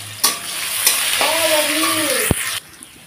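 Chopped garlic sizzles loudly in a hot pan while being stirred, with a sharp clatter at the start, a brief whistling tone midway and a scrape before the frying fades.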